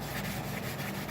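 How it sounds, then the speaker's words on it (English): Sandpaper rubs back and forth on a wooden guitar fretboard during fretboard planing, a close, continuous hiss with quick rhythmic strokes and no talking. "We're almost done with this part of the sanding."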